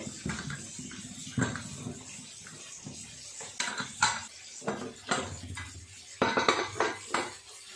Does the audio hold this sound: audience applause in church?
no